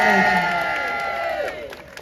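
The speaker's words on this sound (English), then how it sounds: "could we also have a massive round of applause for the stewards" A loud crowd at an outdoor rally in Parliament Square, London, cheering and clapping, with sustained voices and whoops over a wash of applause that gradually fades toward the end.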